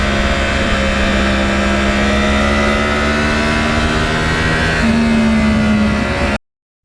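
A Yamaha R1 crossplane engine on a ride, a loud, close mid-pitched engine drone holding steady revs with a slight rise in pitch partway through, then cutting off abruptly near the end.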